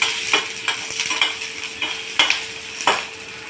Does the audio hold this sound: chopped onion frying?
yes